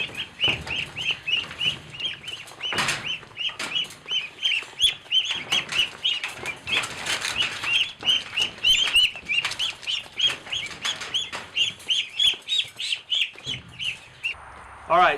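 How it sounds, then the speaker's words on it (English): Ducks being herded toward a pen closed off with plastic fencing on a duck farm, with wings flapping and a steady run of rapid, close calls and quacks throughout, loud and dense. "we'll just get the ducks going in that direction and then close it off with a piece of plastic fencing"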